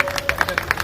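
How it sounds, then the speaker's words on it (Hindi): Crowd applause for the guests at a BJP office groundbreaking ceremony in Manawar, Dhar district, heard as brief, rapid claps rising under someone speaking over a microphone. "एक बार जोरदार तालियां हमारी सारे अतिथियों के लिए"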